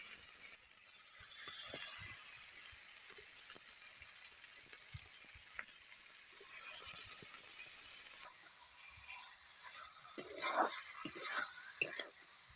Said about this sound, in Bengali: মাংস আমি ভালোভাবে মশলার সাথে কষিয়ে নিয়েছি